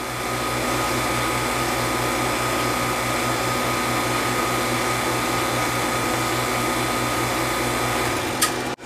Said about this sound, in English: And it'll kick on the vacuum.